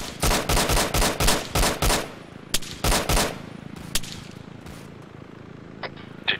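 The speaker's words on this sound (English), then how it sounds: "I'm shooting over your head, don't stand up" Rapid bursts of gunfire in a military video game, loud and close, firing in repeated volleys for about three seconds, then isolated shots and sparse pops trailing off.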